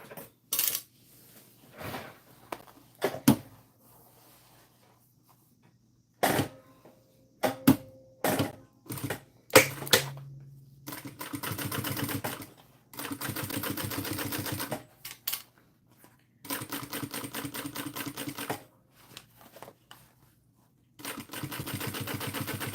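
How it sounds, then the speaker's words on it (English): A home sewing machine stitching in several bursts of rapid, even mechanical chatter, separated by clicks, taps and short pauses, fairly close. "Let me stitch that one right now."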